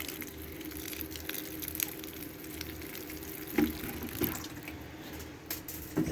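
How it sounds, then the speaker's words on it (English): Water is poured into a bin of casting mixture, a faint, steady trickle and splash with a few soft knocks and squishy sounds, with no voices. "So we'll add the water to that level there."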